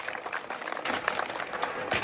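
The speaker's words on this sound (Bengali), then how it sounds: "সবাই একটা জোরে তালি হবে।" Village women clap loudly together outdoors, with dense rapid applause across two seconds and a faint voice mixed in.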